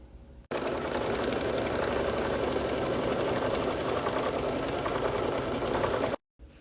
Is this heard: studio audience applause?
no